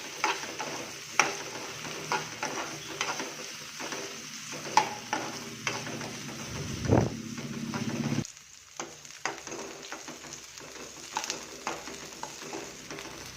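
Cauliflower florets frying in oil in a pan for a vegetable paneer Kolhapuri, a quiet steady sizzle broken by scattered clicks and scrapes of stirring, with a sharp drop in the noise about two thirds of the way through.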